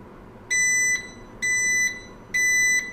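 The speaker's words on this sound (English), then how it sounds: "it beeped to let you know that it is ready to go" A Breville Smart Oven Air Fryer Pro signals it has finished preheating with three evenly spaced, bright electronic beeps, each about half a second long, over a quiet background hum.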